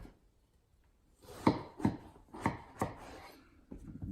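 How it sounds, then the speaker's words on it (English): A knife cuts peeled eggplants in half on a board, giving about five distinct soft thunks at uneven intervals, close by and fairly quiet. "now once you got them all peeled, you want to slice them in half"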